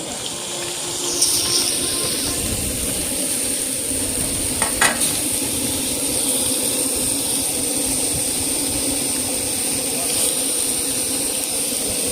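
Hot pan sizzling while katla fish curry cooks, a steady close hiss that runs throughout, broken by a few brief clatters and scrapes, with no talking.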